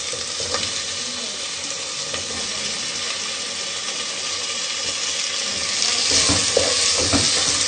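Potatoes, peas and masala frying in a pan produce a loud, close, hissing sizzle that runs without a break and swells slightly toward the end, with occasional stirring scrapes and no voices.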